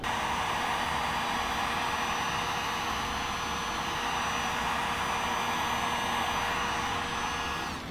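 Heat gun blasting hot air over car vinyl wrap, a steady loud broadband hiss and whir held unbroken from start to finish with no talking.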